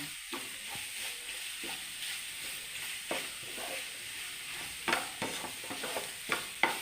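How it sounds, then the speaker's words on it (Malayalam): Egg thoran with onion stir-fries in a pan, a soft steady sizzle broken by intermittent scraping strokes of a spatula that grow sharper and more frequent toward the end. "അങ്ങനെ നമ്മൾ മുട്ട അണ്ട തോരൻ നല്ല ചിക്കി തോത്തിയിട്ടുണ്ട്"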